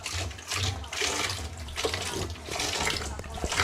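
Water is poured into a fish tank in gushing, splashing bursts, close by, with short pauses between pours.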